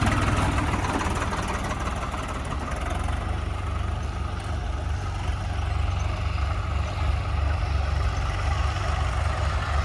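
A tractor pulling a super seeder runs close by in a field, its heavy engine holding a steady, loud low rumble that rises slightly without sharp revs.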